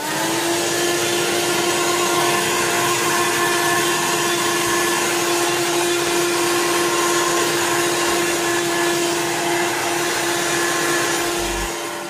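A household vacuum cleaner runs continuously at close range, a loud steady whine and roar with a constant pitch and no pauses, heard alone without any talking.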